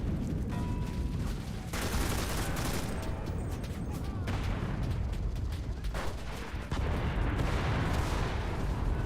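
Grenade or explosive blast in the video game Enlisted, Battle of Berlin, amid a continuous din of gunfire and artillery, with bursts and booms rising out of the dense battle noise.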